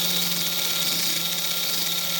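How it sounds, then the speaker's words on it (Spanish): A power drill runs steadily, boring a hole into a bassoon during a repair job, a continuous close, buzzing whine that holds an even level throughout without pauses or speech. "no hay que taladrar hasta abajo, simplemente lo que constituye la broca un poco"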